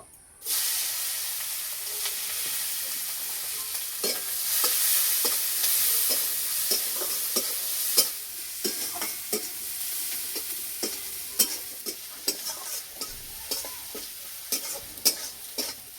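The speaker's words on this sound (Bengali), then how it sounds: "এই তেলের মধ্যে পেঁয়াজ ভেজে নেব।" Onions frying in hot oil in a pan after eggs were fried, a steady close sizzle and hiss with repeated sharp stirring scrapes and clicks throughout, no voices.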